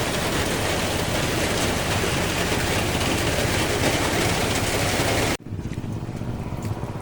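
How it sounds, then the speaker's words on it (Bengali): Heavy rain roars as a dense, steady hiss, then abruptly drops to a quieter patter near the end. "বাইরের ওয়েদার তোমাদেরকে দেখাচ্ছি কত পরিমাণে বৃষ্টি হচ্ছে"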